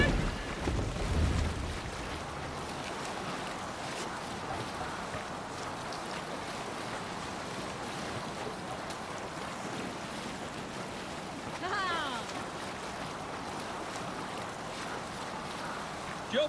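A sailing ship moving over the waves in Assassin's Creed Valhalla, a steady faint wash of water and wind with soft creaks, continuous and even throughout.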